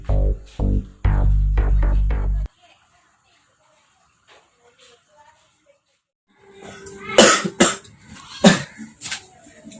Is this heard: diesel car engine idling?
no